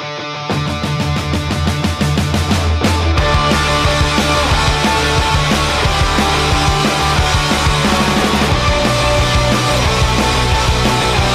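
A rock song playing loudly and continuously, a full band mix with driving drums and guitars filling the whole stretch.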